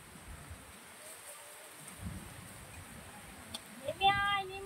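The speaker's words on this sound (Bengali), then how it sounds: "দেখো বৃষ্টি পড়ছে কিভাবে" Rain falls on trees during a sudden shower where langur monkeys are being fed, producing a steady, soft broadband hiss and patter throughout, with a brief brighter tonal sound rising near the end.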